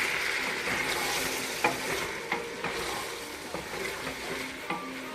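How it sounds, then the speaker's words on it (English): Dark soy sauce, three to four teaspoons, fries in a pan for pork buns, giving a steady close sizzle with light stirring scrapes and a few soft clicks. "And let it fry."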